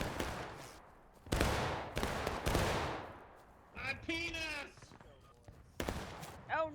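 Musket volley fire in the Civil War game War of Rights, with several loud, ragged bursts of massed shots, some distant and some close, and someone speaking between the volleys.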